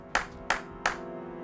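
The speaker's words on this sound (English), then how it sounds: "You clapped your hands" Three crisp hand claps ring out at an even, unhurried pace in Zero Escape: Virtue's Last Reward, each a sharp slap with a short decay over quiet background music.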